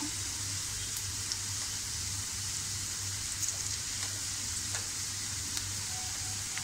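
Chopped ginger goes into onions frying in a pan for mushroom matar masala, giving a steady, close hiss of sizzling oil that runs unbroken throughout with faint crackles and no voices.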